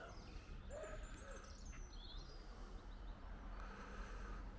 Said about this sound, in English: There's a blackbird.